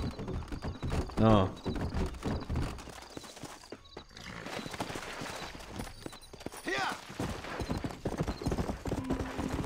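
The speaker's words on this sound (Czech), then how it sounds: "Nevadí, tak si tam dojedeme takhle hezky na koni." Horse hooves clip-clop steadily through a ride in Red Dead Redemption, with a brief whinny early on, all running under someone talking over the gameplay.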